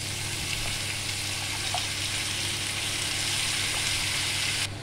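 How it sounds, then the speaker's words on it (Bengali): Washed vegetables sizzle in a hot pan, a steady, even frying hiss that holds at a constant level throughout with no talking. "পুরো সবজিটা আমি ধুয়ে নিচ্ছি ভালো করে, এবার ঢেলে দেবো"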